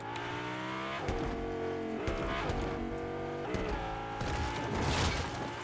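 Car driven in Fortnite Zero Build: a close, loud engine drone that climbs in pitch and drops back at each gear change, roughly every second, with no talking.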